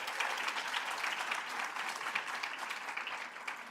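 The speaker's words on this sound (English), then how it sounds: "Let's clap it up for Mr. Tutton." An audience at a school district sports awards ceremony gives steady, dense applause for a student honoree, a continuous wash of many hands clapping that holds evenly and tapers slightly at the end.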